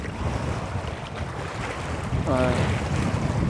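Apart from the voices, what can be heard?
strong wind over a large lake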